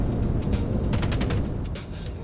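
Rapid bursts of gunfire in the Star Citizen video game near a spaceport, with a quick string of cracks over a loud, rumbling ambient bed, and no one speaking.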